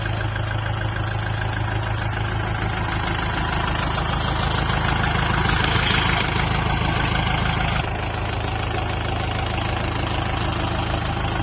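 A Kubota tractor's diesel engine idles and rumbles continuously nearby, with a low throbbing drone and a brief surge partway through.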